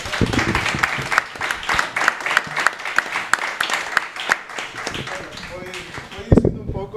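An audience claps on cue during a boating talk show, loose scattered hand claps with sharp individual hits over talk, the applause thinning and fading toward the end before a final few louder knocks.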